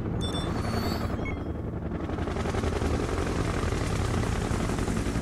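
Helicopters in the video game Broken Arrow: a dense, continuous rotor thrum and engine whine at moderate level, with a few faint electronic tones at the start.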